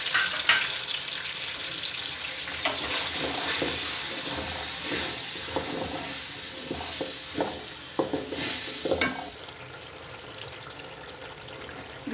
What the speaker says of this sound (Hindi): इस पेस्ट को अच्छी तरह भून लेते हैं।